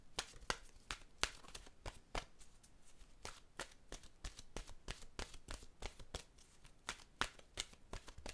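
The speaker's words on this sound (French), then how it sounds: "Je vais piger maintenant une carte de mon oracle de l'âme intuitive." Oracle cards are shuffled and drawn in a quiet room, a long run of crisp, rapid card flicks and slaps close by, in an uneven, steady rhythm.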